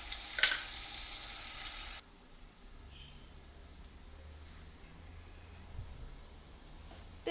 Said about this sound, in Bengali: তো এখন দিয়ে দিচ্ছি তেল, এলাচি, দারচিনি দিয়ে দিচ্ছি